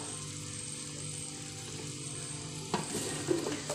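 Pomelo pieces dropped into a pan of frying chilli mix for pickle, a low steady sizzle that jumps to a louder, crackling hiss as the fruit goes in, followed by stirring clatter.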